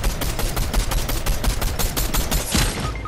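Rapid automatic gunfire from the video game Fortnite on PS5, a dense stream of loud, close shots rattling steadily for about three seconds with one sharper burst near the end.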